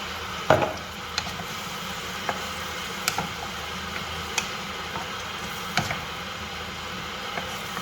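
Onion fries in a pan with salt and homemade lecho, giving a soft steady sizzle punctuated by occasional light clicks and taps of a utensil, close and fairly quiet with no voices.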